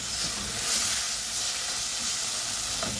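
Kamias fruit simmers in a pot for fish sinigang, a steady even hiss and bubbling sizzle that holds close and constant throughout with no talk.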